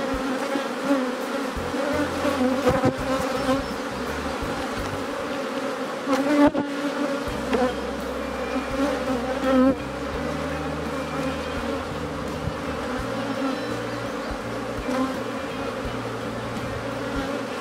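A caught swarm of honeybees hums at the hive in a dense, continuous buzz, close and steady throughout, with no voices.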